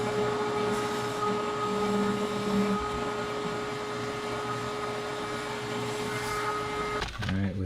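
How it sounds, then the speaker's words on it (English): A vacuum cleaner fitted with improvised hoses cleans the spark plug threads of a 1990 Z24 Cavalier engine, giving a steady, close motor whine with a constant tone that cuts off near the end. "I have fashioned this set of hoses for my vacuum cleaner."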